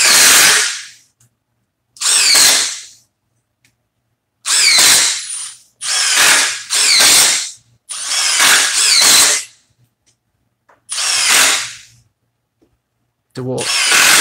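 A DeWalt impact driver drives screws in a comparison test: loud, rapid ratcheting hammer bursts, about eight of them, each a second or so long, separated by short silences, close up.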